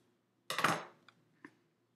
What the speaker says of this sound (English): just cut right along the fold lines